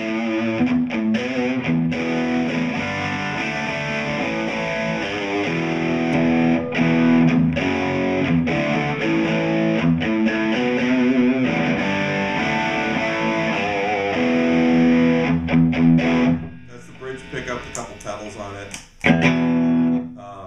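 A Squier Classic Vibe Telecaster electric guitar played through mild distortion, sustained strummed chords and picked notes ringing close and loud, then thinning to a few sparse notes and pauses near the end.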